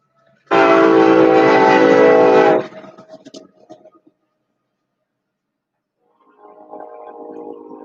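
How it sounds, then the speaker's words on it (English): A loud, sustained train horn blares for about two seconds, close and harsh, then fades into rumbling rail noise; after a pause, a low rolling train sound returns and builds. "Train."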